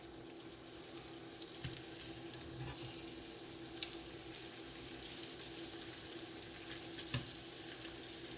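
Low-carb wheat bamboo egg rolls frying in oil in a pan make a soft, steady sizzle with occasional small pops and clicks, quiet and even throughout with no talk.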